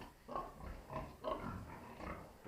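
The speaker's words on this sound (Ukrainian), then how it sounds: "І ще в нас ось теж три свинки." Several low, rough pig grunts come in short bursts at an even pace, close by and fairly quiet, with no talking.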